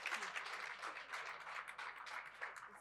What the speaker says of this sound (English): Can we give her the round of applause and celebrate her?